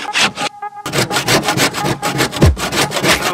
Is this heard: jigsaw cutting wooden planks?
yes